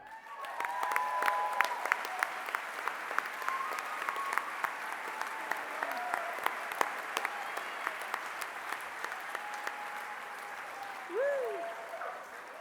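Audience applauding last year's WAMmys winners, Harry and Sharon Miller, at a 2014 awards event: sustained, moderately distant clapping from a crowd, with scattered voices and a brief whistle-like sound near the end.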